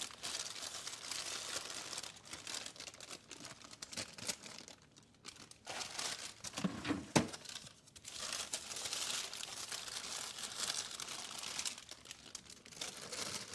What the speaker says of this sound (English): I just throw them in a plastic bag